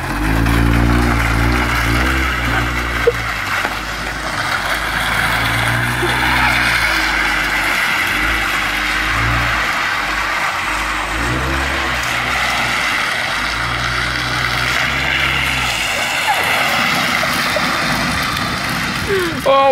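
A front-wheel-drive car held in a handbrake drift, its engine revving in repeated loud surges with tire noise over a steady roar, voices talking throughout.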